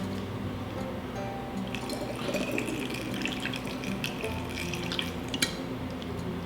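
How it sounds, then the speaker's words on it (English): Water from a tap runs and splashes into a spray bottle while topping up a homemade dry shampoo mixture, a soft steady trickle with small drips and gurgles, close and fairly quiet, with no talk. "And then I'm just going to top it off with water."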